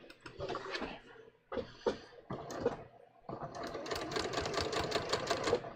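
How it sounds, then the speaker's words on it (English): Sewing machine stitching a bias-cut top, running in short bursts with pauses, then a longer steady run of rapid mechanical clatter up close. "I think I'll be able to just very easily sew it."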